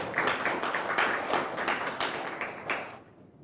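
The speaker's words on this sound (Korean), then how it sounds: "박수로 다시 한번" An audience at a debate forum applauds, with dense, lively clapping from many hands held at an even level before it thins and fades out in the last half second.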